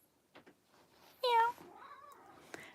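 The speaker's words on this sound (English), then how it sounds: "hey kitties, hey Spot, hey Tabby, kitty, kitty, kitty" A cat gives one clear, short meow nearby, with faint soft rustles and small taps before and after in a quiet room.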